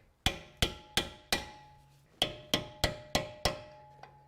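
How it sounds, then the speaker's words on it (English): A steel punch taps the locking tabs on the strut of a 2014-2022 Jeep Cherokee front strut. About ten sharp, ringing metallic strikes come close and clear, in an uneven series, with no talk. "And we'll take our punch and just reset those locks."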